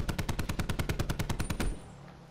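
Rapid automatic gunfire in Call of Duty: Black Ops 4, a fast, even burst of about fifteen loud close shots that stops abruptly and leaves a brief fading tail.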